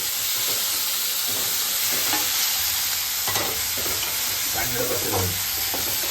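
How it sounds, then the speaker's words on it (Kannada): Spices crackle and sizzle steadily in hot oil as the tempering goes in for chitranna, a lemon-style rice made from leftover cooked rice, in a home kitchen. The frying stays close and continuous, with faint voices murmuring underneath. "ಈಗ ಚಿತ್ರಾನ್ನ ಆಗಕತ್ತೈತಿ ನೋಡ್ರಿ ಚಿತ್ರಾನ್ನ ನಮ್ಮ ಮನೆಯವರೇ ಒಗ್ಗರಣೆ ಹಾಕಾಕತ್ತಾರ"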